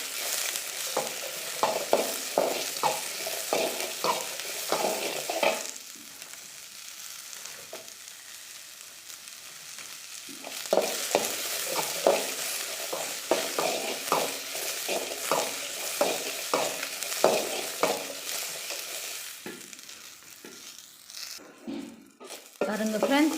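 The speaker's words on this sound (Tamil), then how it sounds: "நல்லா இது வதக்கிக்கலாம்" Green chillies sizzle with onions in a hot pan while a spatula scrapes and stirs in bursts, with a quieter pause between rounds of stirring.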